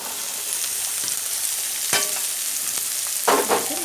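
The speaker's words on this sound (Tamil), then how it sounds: "வெங்காயம் நல்லா வதங்கிருச்சு. இப்போ நம்ம எல்லா காய்கறியும் சேர்த்துக்கலாம்." Onions and vegetables sauté in a pan, giving a constant hiss of frying and sizzle with occasional scrapes and clinks of a spatula stirring, close and moderately loud.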